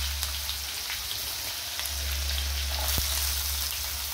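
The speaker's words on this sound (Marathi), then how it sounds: "कांदा भाजून घेते." Onion frying in a pan with mustard seeds, cumin and curry leaves, a soft steady sizzle under a low background hum, with one sharp tick near the end; quiet and without speech.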